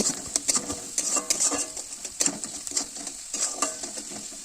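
Onions with turmeric sizzle in a pan as a spoon scrapes and stirs in quick, irregular strokes, close and fairly quiet with no talking.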